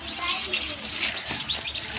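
Newly hatched quail chicks chirping, thin high peeps scattered through a short stretch, fairly faint, with some voice-like sound mixed in.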